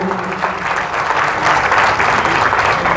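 Audience applause welcoming a kirtan singer, loud dense clapping from a crowd that holds steady for a few seconds.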